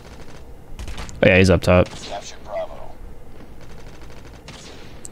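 Gunfire in a first-person shooter, aimed at a sentry gun: a tight burst of loud rapid shots in the middle, then quieter scattered shots and game sounds, with someone talking throughout.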